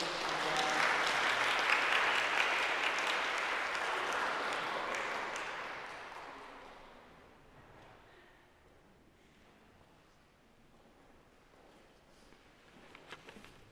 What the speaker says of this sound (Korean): 다시 한번 격려하며 박수드립니다.